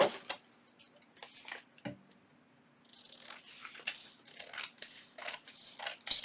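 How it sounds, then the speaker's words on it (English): Scissors snip through paper while trimming a junk journal page, several close, crisp cuts in irregular bursts with soft paper rustling between them. "let's cover the back here, just like that, and then trim it out."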